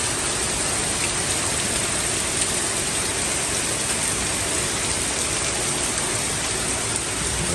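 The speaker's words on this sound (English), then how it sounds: "it's September and it still rains hard as hell" Hard, steady rain pours down in Georgia in September, a loud, dense, unbroken hiss that fills the whole stretch with no voices over it.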